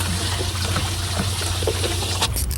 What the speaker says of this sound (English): I'm going to turn that aerator on for a little bit.